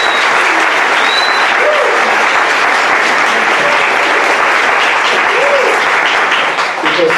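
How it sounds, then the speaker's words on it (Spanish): A hospital ceremony audience breaks into loud, sustained applause, dense clapping from a full room that carries steadily from start to finish without a break. "eso merece un fuerte aplauso para todo el equipo y para nuestra familia"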